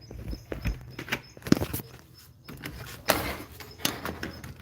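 A gazebo door is worked open with a run of knocks, thumps and sliding scrapes, fairly near and irregular, ending in a longer rattling scrape.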